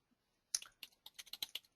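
Typing on a computer keyboard, a burst of about a dozen quick, close key clicks in an uneven rhythm after a brief quiet pause, heard alone with no talk.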